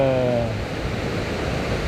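Broadband rushing water from a mountain waterfall in the Écrins, passed on a hike to a refuge; a steady, loud wash throughout, with a brief tonal voice-like sound in the first half-second.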